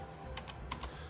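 A password is tapped out one-handed on a phone, giving a few soft, irregular taps that are faint beneath a steady background hiss.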